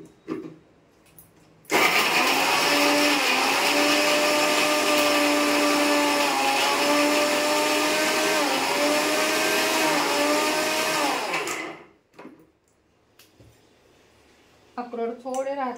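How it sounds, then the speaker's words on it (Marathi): A mixer grinder grinds walnuts for jaggery laddoos, a loud steady motor whine running about ten seconds before winding down, with brief talk before and after. "तर आता आपण अक्रोड बारीक करून घेऊया."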